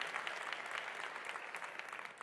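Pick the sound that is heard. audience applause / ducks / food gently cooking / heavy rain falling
audience applause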